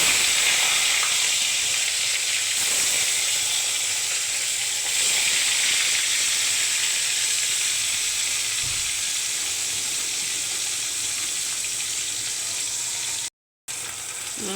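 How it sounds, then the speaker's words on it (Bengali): Parshe fish fried in hot oil in a wok for a fish curry, a steady loud sizzle and hiss with watery crackle running continuously for several seconds, briefly cut off near the end. "কড়াইতে তেল দিলাম, তেলটা গরম হইবে, তারপরে মাছটা ভেজে নেব"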